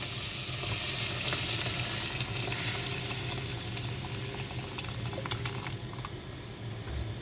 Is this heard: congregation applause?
no